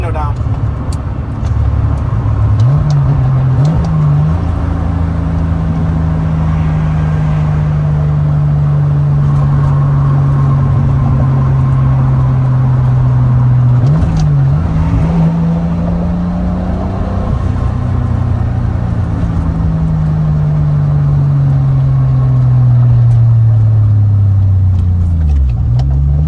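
A car with a Toyota 2JZ engine makes boosted pulls, its loud droning engine note climbing and settling through repeated gear changes, with a brief voice at one point.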